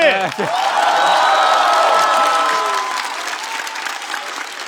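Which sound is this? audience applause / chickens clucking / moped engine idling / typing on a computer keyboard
audience applause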